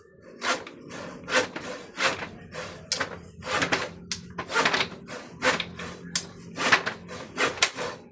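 A handsaw cuts through wood in steady back-and-forth strokes, about a dozen rhythmic rasping pulses, close and clear with no talk.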